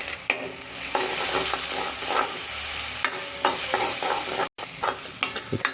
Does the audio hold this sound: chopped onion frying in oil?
yes